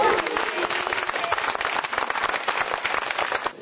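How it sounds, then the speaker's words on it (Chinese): An audience applauds a tai chi and children's martial arts display, with clapping that holds steady and dense for a few seconds before it begins to thin at the end. "胡锦涛主席为他们的精彩表演鼓掌"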